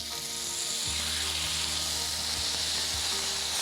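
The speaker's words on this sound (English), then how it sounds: "I'm going to cook these very quickly and on a very hot pan. One there, listen, sizzle, sizzle." Marinated steaks sizzle in a very hot pan, a loud, steady, close frying hiss with a few soft bumps as the meat settles, no talk over it.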